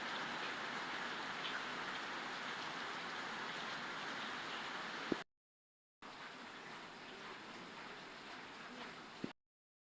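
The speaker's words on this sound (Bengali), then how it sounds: "16 তারিখ সকালবেলা বৃষ্টি হচ্ছে।" Steady morning rainfall pours down in an even, dense hiss for the whole stretch, interrupted by a brief silent gap, with a couple of faint close knocks near the ends and no talking.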